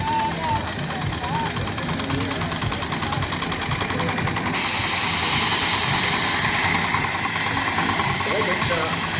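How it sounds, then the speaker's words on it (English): A steam traction engine runs loud and steady with hissing and a chugging rumble, and someone talks over it, in an arena at the Isle of Wight Steam Fair. "There it is, again with a full power of steam as it goes round to the top side of the arena."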